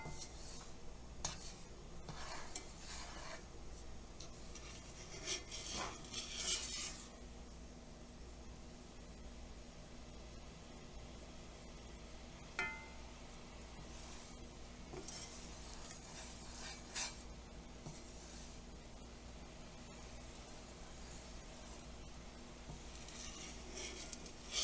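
A spoon stirs hot cocoa in a saucepan on the stove, a continuous soft scraping and bubbling hiss with occasional light metallic clinks against the pan, steady and close for the whole stretch.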